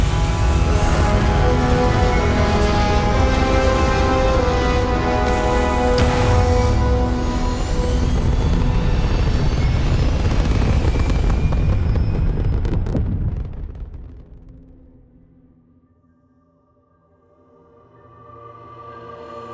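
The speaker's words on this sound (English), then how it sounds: "thrusters firing" Starfield spaceship thrusters firing: a loud, dense roaring rush with a tonal hum that holds steady for about thirteen seconds, then cuts off into a low fading rumble before swelling again slightly.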